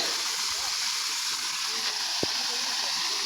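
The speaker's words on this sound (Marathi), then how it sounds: "देवराजने पाणी सोडलंय." Water gushing out of a pipe, a continuous close rushing hiss with one brief low knock partway through.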